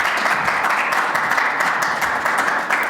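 Audience applause for a speaker at an interreligious dialogue event, a steady wash of many hands clapping at moderate volume throughout the short stretch.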